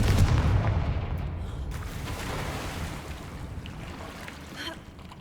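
A Confringo spell blast in Hogwarts Legacy hits as a heavy booming impact right at the start, then fades into a rumbling decay and lingering noise.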